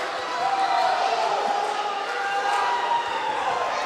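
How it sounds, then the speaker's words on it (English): A large crowd at a Wu Lin Feng kickboxing event at the PanAm Centre in Canada roars and cheers steadily throughout, a broad continuous wash of voices. "the crowd, of course, you can hear is loving those head kicks"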